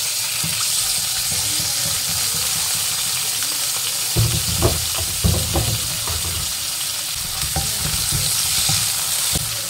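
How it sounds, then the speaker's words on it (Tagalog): Onions sizzle in heated cooking oil in a home kitchen, a steady bright hiss punctuated by stirring scrapes and clicks of a utensil in the pan, growing busier midway. "nagpainit na tayo ng mantika. Lagyan na natin ang ating sibuyas."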